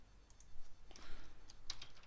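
Someone types on a computer keyboard, giving a short, faint burst of several light key clicks in quiet surroundings.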